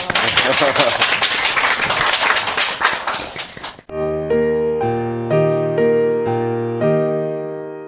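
Studio audience applause at a Korean talk-show interview, a dense burst of clapping under some talk for about four seconds, then cut off by a bright musical jingle of stepped notes.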